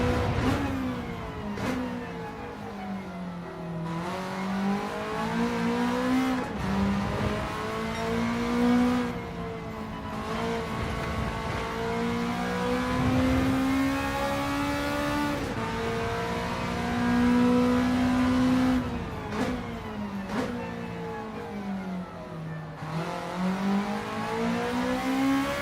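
Race car engines in Gran Turismo 7 rev continuously through shifting gears, pitch sweeping up and down with repeated upshifts and braking, loud and steady for the whole stretch with no talk.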